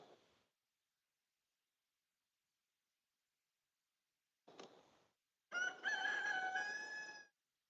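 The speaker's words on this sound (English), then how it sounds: "Can you hear the rooster?" A rooster crows near a beehive yard: after a faint earlier sound and a short call, one full drawn-out crow rings out clearly against near silence.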